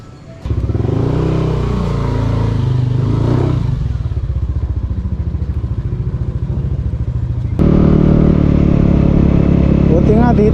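A motorcycle ridden along a muddy road, its engine droning steadily with rattling clatter and bumps, rising and falling in pitch as it goes, with a voice talking over it.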